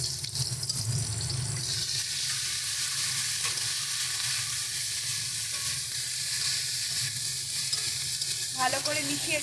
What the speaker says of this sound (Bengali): ভালো করে মিশিয়ে এটাকে ভেজে নেব।